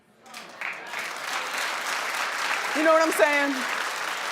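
Studio audience applause on a daytime talk show, a broad steady clapping wash that swells and holds for several seconds while a host speaks over it.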